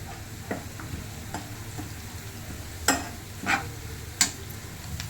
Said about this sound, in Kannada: ಈಗ ಕರಿಬೇವು ಹಾಕ್ಕೊಳ್ತಾ ಇದ್ದೀನಿ